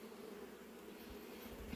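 Honey bees hum at a hive in a steady, faint, continuous drone with no breaks, heard up close and alone.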